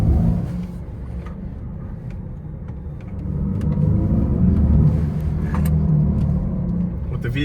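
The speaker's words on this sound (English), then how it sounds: "What the vehicle is doing is it's creating an artificial sound to mimic the actual motors." A Mercedes-Benz EQE electric car plays its artificial Powerful drive sound in Sport Plus mode, a low synthetic rumbling hum that swells as it accelerates, heard under someone talking.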